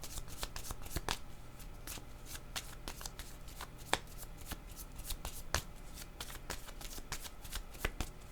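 Playing cards are shuffled by hand close up, giving a run of quick, crisp riffles and snaps in uneven bursts over about eight seconds, quiet and with no talking.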